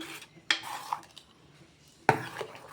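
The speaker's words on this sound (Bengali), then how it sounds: "ভালোভাবে মিশিয়ে নিচ্ছি।" Batter with green chilli and pepper mixed in a bowl for a breakfast recipe, with a few sharp clinks of a spoon against the bowl separated by quieter scraping, close and with no talk.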